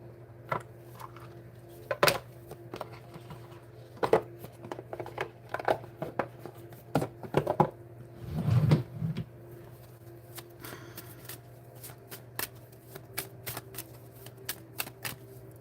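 A yes-or-no card deck riffled and shuffled several times, crisp rapid fluttering bursts with a longer riffle in the middle, close by and fairly quiet.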